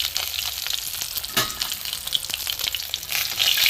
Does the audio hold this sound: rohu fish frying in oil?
yes